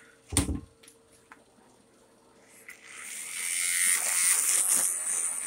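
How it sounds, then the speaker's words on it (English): A powerful electric toothbrush switches on after a thump and keeps up a steady, high-pitched buzz that stays fairly loud to the end, with no talking. "How do you guys like my powerful electric toothbrush?"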